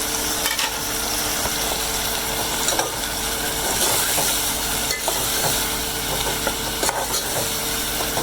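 Masala and tomato sizzle steadily in a hot pan for Punjabi-style gawar phali, a continuous loud frying hiss with occasional stirring scrapes.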